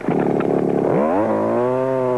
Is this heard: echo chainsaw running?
yes